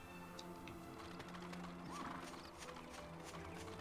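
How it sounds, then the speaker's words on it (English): Horse hooves clip-clop with a rolling carriage in the video game Dragon Quest VIII, a steady rhythmic trot set against a soft background music bed. "I hear the horse and carriage with me"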